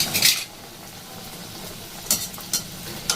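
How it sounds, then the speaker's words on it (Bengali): Homemade snacks frying one by one in hot oil, a faint steady sizzle broken by a few sharp metallic clinks of a utensil against the pan, close by and without speech. "তেল গরম হয়ে গেছে, এবার দেখুন আমি একটা একটা করে ভেজে নেব।"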